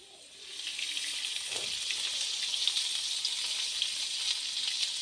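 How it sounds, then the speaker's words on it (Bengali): Onions frying in oil in a kadai while a country chicken curry is cooked, a steady bright sizzle rising after a quiet start and holding even and close for several seconds, with no talking. "তেল দিয়ে নিচ্ছি, এবার আমি হালকা করে ভেজে নেব"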